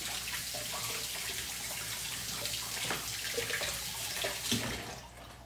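Tap water runs steadily into a sink during a hand rinse after a CND Spa manicure, a constant close splashing wash with slight shifts in flow and no talk.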